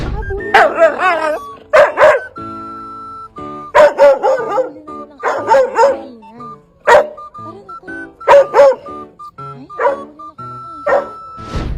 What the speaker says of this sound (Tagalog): agad niya na itong nilapitan na may kasamang pahipoy at tahol